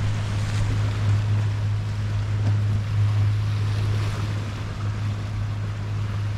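Ocean waves at Devonport, Auckland wash and break in a steady, broad roar, heavily mixed with gusting wind buffeting the microphone and a low constant hum, moderately loud and unbroken throughout, with no voices.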